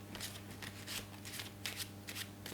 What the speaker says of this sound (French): Ce test, il se fait avec un petit jeu de cartes qu'on va commencer tout simplement par mélanger.